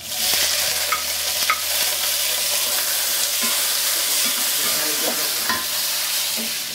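Peeled shrimp hit a hot, oiled wok over high heat and fry with a steady loud sizzle, punctuated by occasional clinks and scrapes of stirring.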